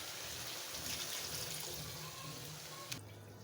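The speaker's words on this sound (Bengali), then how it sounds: "এখন দিয়ে দিব ঝোল।" Broth poured into a pan of pangas fish curry with greens and tomato, a steady close liquid splash and hiss that runs unbroken for a few seconds before a brief clink near the end.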